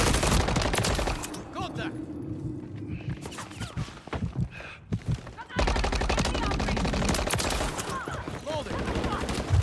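Dense gunfire in the Call of Duty: Modern Warfare 3 video game, with bursts of automatic fire and shots, loud and near, briefly easing in the middle before resuming steadily to the end.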